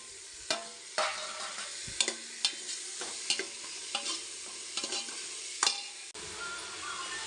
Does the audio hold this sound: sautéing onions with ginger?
yes